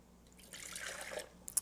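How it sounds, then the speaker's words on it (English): Water poured into a Ninja food processor bowl for pizza dough, a short soft splashing pour of about a second, faint and close. "So first, I'm going to add my water."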